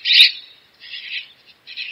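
A scrub jay's harsh, raspy call repeats in three scratchy bursts with short gaps between, clear and close against silence.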